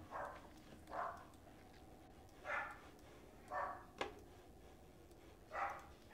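Dog barking outside during a horror video game, five or six faint, distant barks spaced a second or so apart over a steady low background hum.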